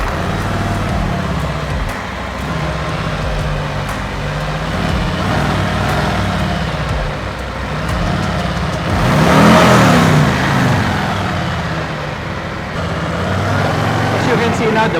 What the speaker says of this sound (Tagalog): You can see now the bike is running.